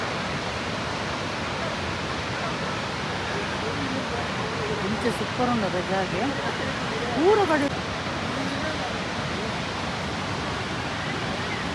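Jog Falls pours in a constant, broad roar of falling water that fills the whole scene, steady and loud, while people talk over it near the microphone.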